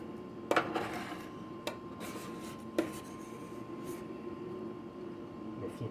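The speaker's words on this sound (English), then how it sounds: "So I'm just going to start cleaning the edges" Scraping and scuffing of a tool along the edges of frozen chocolate on an anti-griddle, a few sharp scrapes in a quiet room with a steady background hum, no talking.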